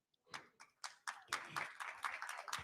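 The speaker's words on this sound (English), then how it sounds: "Applause." Scattered claps build into a short burst of audience applause at a panel event, starting with a few hands and then filling in. The clapping is fairly soft and distant, with no speech over it.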